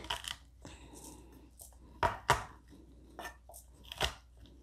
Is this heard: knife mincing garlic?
yes